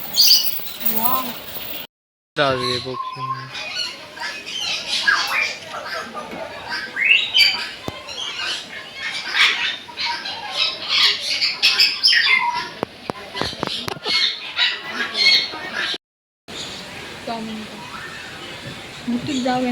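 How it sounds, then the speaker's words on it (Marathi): Many birds, including pigeons, call and chirp continuously in an enclosed aviary, a busy overlapping chorus with people talking and moving nearby. "पक्ष्यांची गुहा"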